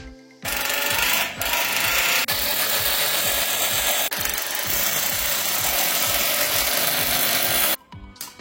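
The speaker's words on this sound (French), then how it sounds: "ici pour aller dévisser les vis qui protègent le cache arrière" A driver unscrews the screws on the back cover of a charging station, a close, steady ratcheting and scraping grind running for several seconds before stopping abruptly.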